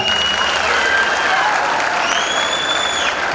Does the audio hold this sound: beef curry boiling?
no